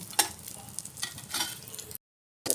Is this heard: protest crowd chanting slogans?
no